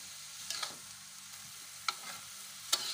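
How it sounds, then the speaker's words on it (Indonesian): Bitter melon stir-fry being stirred in a pan, with a soft steady sizzle and a few scattered scraping clinks of the utensil, close and fairly quiet, no voices. "Kita aduk lagi, guys, biar empuknya merata."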